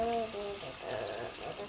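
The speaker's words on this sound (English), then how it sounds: "Just give those a rub down underneath the water then for me, Milo." Tap water runs steadily into a kitchen sink as vegetables for veggie kebabs are rubbed clean underneath, with a child and adult nearby and faint speech-like tones early on.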